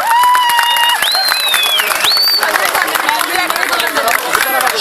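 An outdoor crowd at a village Hıdırellez spring festival applauds the winning tug-of-war team with dense, steady clapping that stays loud and close for the whole stretch, mixed with shouts, whistling cries and chattering voices.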